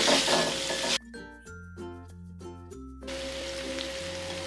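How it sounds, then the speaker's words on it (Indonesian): Bay leaves, lemongrass and galangal with a pinch of salt are sautéed in a pan for chicken opor, a dense crackling sizzle that stops for a short tuneful music interlude and then resumes steadily. "Masukkan daun salam, serai, dan lengkuas. Tambahkan sedikit garam dan tumis hingga wangi."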